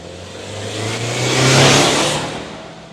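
The 2.4-liter turbo boxer engine of a 2025 Subaru Outback accelerates, a steady mid-pitched drone swelling into a louder rising surge that peaks midway and then eases, with broad road and wind rush underneath and no talk.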